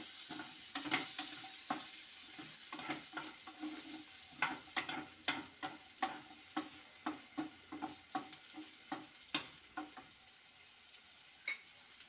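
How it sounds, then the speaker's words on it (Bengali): Carrot and capsicum pieces are stirred together in a sizzling pan for semolina upma, with a spatula scraping and tapping in a steady rhythm of about two strokes a second over a soft fry, close and fairly quiet. "এবার সব সবজিগুলোকে আমি একসাথে ভালোভাবে মিশিয়ে নেব"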